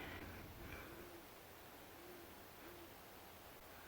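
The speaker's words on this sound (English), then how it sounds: "there's an owl" An owl hoots in a canyon on a crisp, cool morning, a few soft, distant calls spaced apart over a steady background hush of wind or air.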